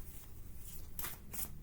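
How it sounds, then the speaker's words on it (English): A deck of tarot cards being shuffled by hand, soft riffling and sliding throughout with louder bursts of card flutter toward the end, close and alone. "And the cards have been difficult to shuffle."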